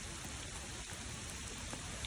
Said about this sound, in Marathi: पाऊस जाम जोरान चालू झाला